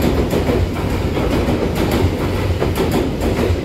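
A Taroko Express TEMU1000 tilting train passing at steady speed, a loud continuous rumble with rhythmic clickety-clack of wheels over rail joints, close by, no voices.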